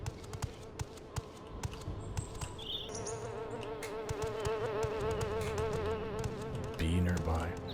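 A bee buzzes in a video game, a steady droning hum that rises and holds over scattered taps and faint game ambience, fairly close.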